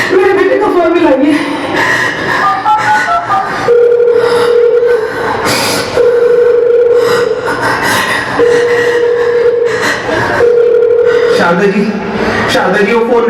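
An unanswered telephone rings on, its repeated steady tone bursts coming at regular intervals over background music and voices.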